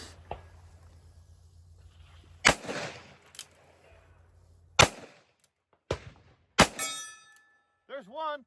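Six rounds from a Ruger Vaquero .45 Long Colt single-action revolver fired outdoors, each loud sharp report spaced a second or more apart with ringing decay, the last followed by a metallic ping and faint voices.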